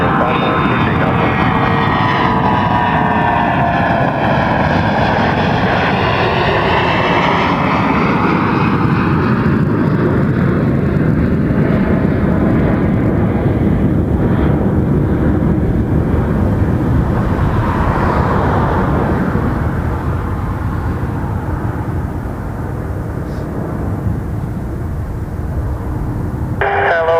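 A heavy cargo jet takes off at Toronto Pearson Airport on a November evening: a loud, continuous engine roar that swells and shifts in pitch as it climbs away, filling the whole half-minute, with faint radio chatter underneath.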